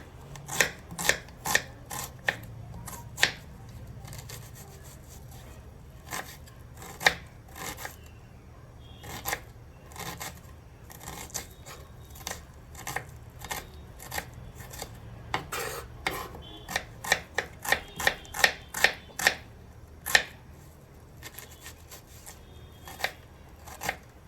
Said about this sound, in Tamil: 2 மீடியம் சைஸ் ஆனியன் எடுத்துருக்கேன், அது கட் பண்ணிக்கலாம். பொடி பொடியாக கட் பண்ணிக்கலாம்.